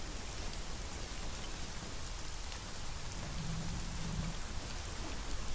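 Rain pours down in the video game Conan Exiles as a dense, steady hiss of drops on surfaces, with a faint low rumble partway through. It continues evenly with no speech.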